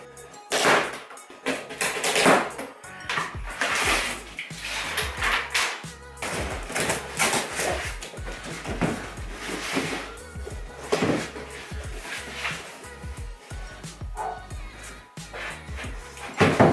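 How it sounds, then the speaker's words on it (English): Halowheels Aerotrack bicycle wheelset being unboxed, with a steady run of close rustling, tearing and knocking of packaging and handling, irregular and busy, with no talk. "we're going to go ahead and open up these wheels and take a look"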